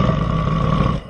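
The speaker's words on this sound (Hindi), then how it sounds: "तभी वह बंदर गुर्राने लगता है।" Deep, harsh growl from a red-eyed, big-toothed monkey in a Hindi folk tale, one loud sustained roaring rumble held for about a second, close and alone.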